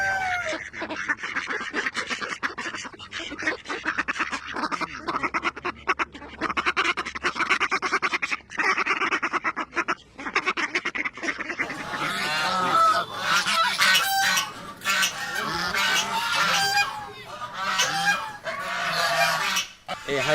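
Ducks honk and quack steadily after being let out to roam and feed alongside hens on a Bangladeshi farm, a busy close flock that grows louder and denser in the second half, with no talk over it.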